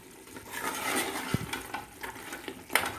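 Mutton masala with soft, broken-down tomatoes being stirred and fried in a pot, giving a steady low sizzle with scraping spoon clicks and a few sharper knocks against the pot, close and alone.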